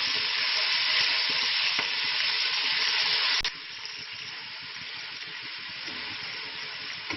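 Peas fry in a pan as ingredients for chicken egg fried rice, with a loud, continuous sizzle. Halfway through it drops to a quieter hiss, with faint stirring scrapes underneath and no voices.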